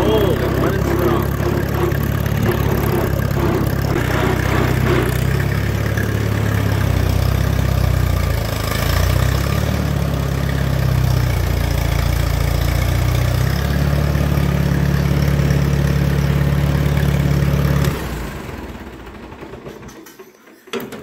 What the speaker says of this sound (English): Oh, I love driving this tractor. It sounds so good.